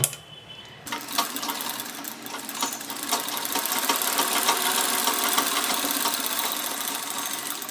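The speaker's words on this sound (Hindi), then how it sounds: "जब हम सिलाई यहाँ पे करते हैं" A sewing machine runs steadily while stitching a blouse armhole seam, its motor whirring in a continuous, fast rattling drone close by after a brief quiet start, with no talking.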